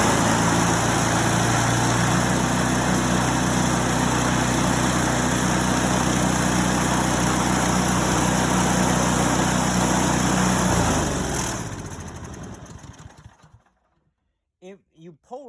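A snowblower engine runs loud and steady on a cold day after being primed and pull-started, its rough drone holding for about eleven seconds before cutting out and dying away, with a few faint sounds at the end.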